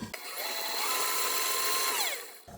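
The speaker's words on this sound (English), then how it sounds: "add the butter to the mixer and beat that until it's light and fluffy" A stand mixer beats butter until light and fluffy for a copycat Hostess Ding Dong cake, a close, even motor whir that ramps up, holds for about two seconds and then winds down.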